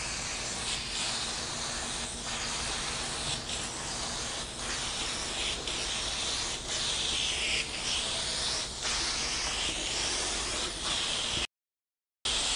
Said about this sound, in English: make sure you got a good clean spray going